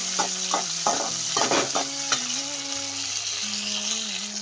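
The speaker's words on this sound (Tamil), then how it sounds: "இப்போ நல்லா வதக்கிட்டுங்க" Crab gravy masala with garlic, tomato and curry leaves sautés in a pan with a steady loud sizzle. Several scraping stirs punctuate it, and a faint tonal hum runs underneath.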